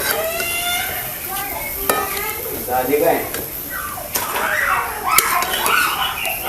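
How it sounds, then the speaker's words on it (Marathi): Cauliflower bhaji fritters deep-fry in hot oil with a continuous loud sizzle and bubbling. A person talks over the frying throughout. "आपल्याला ह्याच पद्धतीने ना तळून घ्यायचं आहे सगळं भजी"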